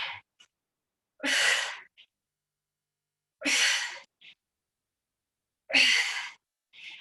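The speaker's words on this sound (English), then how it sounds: "Do you notice my breath? You can hear me breathing, right?" Three loud, forceful breaths during a low-impact HIIT workout, each a whooshing exhale about two seconds apart, with quick short inhales between them, close to the mic.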